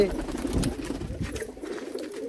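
Big-breed pigeons coo in a low, rolling murmur nearby, steady for a couple of seconds with a faint chirp mixed in.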